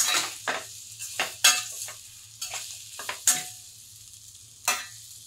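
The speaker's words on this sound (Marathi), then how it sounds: "आता आपल्याला घालायचे हे आवळे आणि छान या तेलात मिक्स करून घ्यायचे आहेत" Indian gooseberries (amla) are stirred in hot oil, heard as a soft background sizzle broken by repeated scraping and clinking strokes of a spoon against the pan, with no voices.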